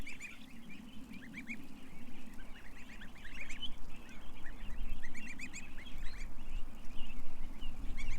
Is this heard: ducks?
yes